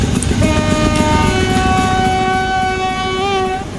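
A class 455 train horn in a train-driving video game sounds in long sustained tones over a steady rumbling background, holding for several seconds with a slight pitch bend near the end.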